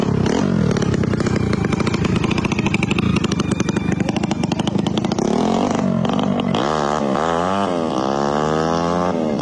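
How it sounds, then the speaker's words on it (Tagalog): A tuned motorcycle with a 62mm bore and racing cams roars past loud and near, holding a harsh, buzzing high-rev drone before the pitch sweeps and falls away as it passes. "Dadaan na yung makina ha."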